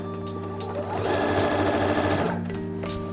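A sewing machine fitted with a denim needle stitches thick denim dungarees, its steady motor hum and rapid needle chatter swelling and labouring for about a second as it pushes over a bulky seam, then easing back, close and with no talk.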